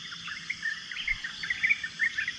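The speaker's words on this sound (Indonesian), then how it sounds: "Enjoy bunyi burung." Birds chirp and trill in scattered bursts in a tree on a mountain at Gunung Tahan, over a steady outdoor hum, moderately distant, with no talking.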